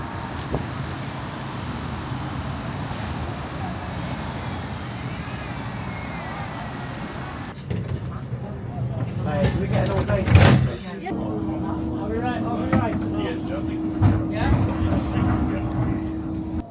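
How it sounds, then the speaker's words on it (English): A Blackpool tram pulls into a stop on the new extension, a steady rumble changing to a nearer rolling approach with a humming motor tone and occasional clanks, while people talk nearby. "There's a tram coming in."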